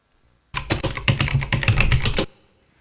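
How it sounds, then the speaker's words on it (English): A computer keyboard clatters with a quick, irregular run of close key presses that starts abruptly, lasts under two seconds and stops, heard alone in a quiet room. "For example, we had typing on a keyboard,"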